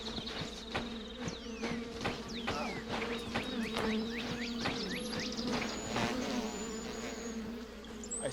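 Bees in a video game buzz steadily around a hive, a constant droning hum with swooping passes and clip-clopping taps beneath, fairly quiet and without speech.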